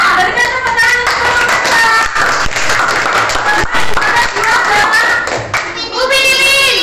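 Children in a classroom clap for the winning group, loud close clapping in uneven bursts, with children's voices and chatter mixed in throughout.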